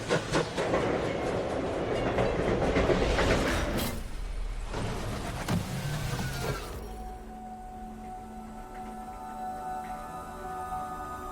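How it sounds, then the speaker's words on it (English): A long freight train rolls by at speed, a loud rushing roar with rhythmic clickety-clack of wheels over rail joints, then suddenly drops to a quieter fading rumble as it passes. "A train that can be as long as 3 kilometres, hammering along at speeds of up to 110 kilometres an hour"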